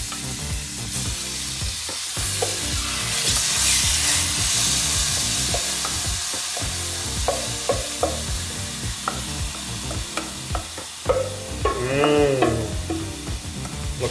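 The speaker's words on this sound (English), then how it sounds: "I'm going to take the butternut squash mixture that we just prepared, and I'm going to actually put that into the pan" Butternut squash mixture stirred in a pan with olive oil, a continuous sizzle broken by rhythmic scraping strokes and clattering utensil knocks, close and moderately loud.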